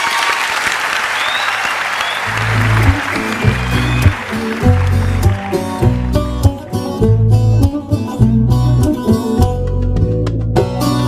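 A crowd gives loud, dense applause for a singer, and after about two seconds a steady, rhythmic instrumental accompaniment starts and plays over the fading clapping.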